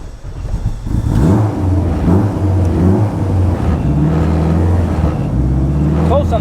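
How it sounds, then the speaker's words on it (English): A modified Honda Civic engine revs hard and stutters against the rev limiter in a loud, close, repeated rhythmic bounce, with a voice briefly audible over it. "So this is more rev limiter, nothing else changed."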